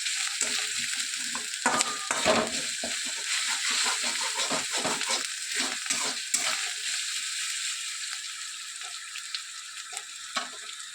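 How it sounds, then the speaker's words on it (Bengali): Ginger paste fries in a hot wok alongside chicken and bay leaves, giving a steady, loud sizzle broken by frequent scraping stirs from a spatula, with no talking. "আদাটা ভাজা হওয়া পর্যন্ত অপেক্ষা করতে হবে"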